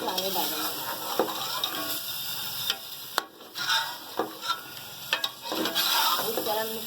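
Ginger and garlic fry in a pot for a Degi chicken korma while a spoon stirs, making steady sizzling broken by sharp knocks and scrapes against the metal.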